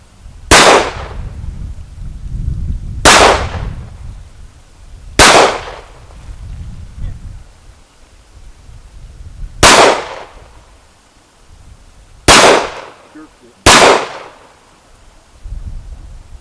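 Six loud, sharp gunshots from a Sig Sauer Scorpion 1911 Commander pistol at a shooting range, irregularly spaced a few seconds apart, each with a short decaying tail.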